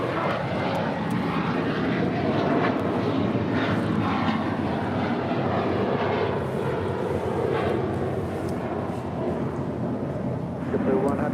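A JetBlue airliner takes off from runway 25 right at LAX, a loud sustained jet engine roar rumbling continuously throughout, with radio chatter and voices faintly underneath.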